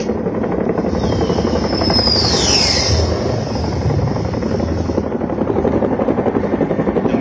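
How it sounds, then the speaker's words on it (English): An upgraded Mi-17 military helicopter approaches over a battlefield display area and hovers, its loud, steady rotor thump and turbine whine filling the whole stretch, with a brief rising whine near the middle. "The Me-17 upgrade helicopter moving into the battlefield for winch operation."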